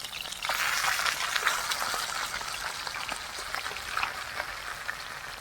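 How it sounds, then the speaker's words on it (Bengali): Fish frying in oil in a pan sputters and crackles with scattered sharp pops over a soft steady sizzle, fairly close and moderately quiet, with no talk. "মাছগুলো ভাজা হয়ে গেছে"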